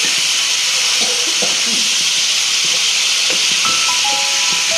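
Water hits spice paste frying in a pan with a loud, continuous steamy hiss and sizzle that holds steady and close throughout, with faint clatter underneath.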